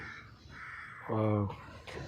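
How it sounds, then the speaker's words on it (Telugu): Under a tree outdoors, a crow lets out one loud, harsh caw close by, while a voice is heard faintly before and after the call. "పిట్ట మళ్ళీ వచ్చింది"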